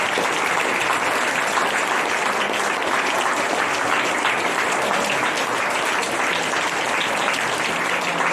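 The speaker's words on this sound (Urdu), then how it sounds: "آپ تالیاں بجاتے رہیں" Sustained applause from a large audience at a high school Qur'an quiz competition, dense and even throughout, with no pauses.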